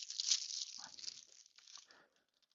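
Plastic wrap crinkles and tears off a Blu-ray case of Alienoid: Return to the Future, a close, bright rustle strongest at first, then softer crackles fading to quiet.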